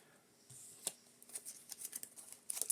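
A deck of cards for the Marvel Champions card game is shuffled by hand, giving a quick series of faint, crisp riffling flutters that grow busier toward the end, close and alone.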